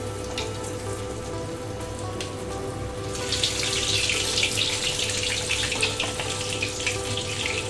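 Pieces of basa fish frying in hot oil, a steady hiss and crackle that swells noticeably louder after a few seconds as more pieces go into the pan, with no talking.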